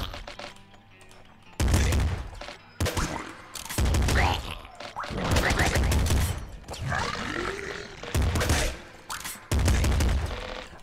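Rapid weapon fire and impacts from the video game Nuclear Throne break out in several loud, dense bursts separated by brief lulls, with a few grunting or roaring creature sounds mixed into the clatter.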